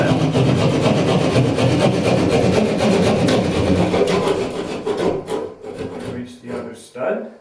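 A hand saw rasps steadily through a wall between two studs, cutting a horizontal line; the continuous sawing runs loud and close for about five seconds, then breaks into shorter strokes and pauses.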